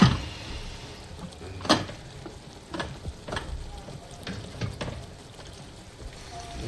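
Beef pieces being stirred and fried in a large biryani pot made with Aachi biryani masala, a steady oily sizzle broken by several scraping, clattering stirs of the meat.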